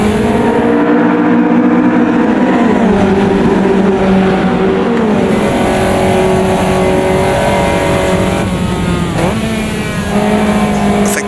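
A Caterham race car engine in the Automobilista 2 racing game drones loud and close at Cadwell Park, holding a steady high-revving note as it climbs through the gears.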